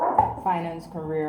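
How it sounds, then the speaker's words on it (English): Dogs bark and yip close by, a few quick barks overlapping a person speaking indoors. "Sorry about the dogs."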